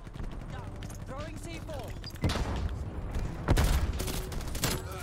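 Rapid AUG rifle bursts crack out in a Black Ops Cold War match, short volleys of loud gunfire punctuating the round, with a player's voice talking over the action between shots.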